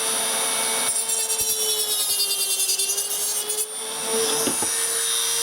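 A Dremel rotary tool cuts into case fan plastic with a loud, steady high-pitched grinding whine, broken by brief scraping bursts as the cut is straightened out.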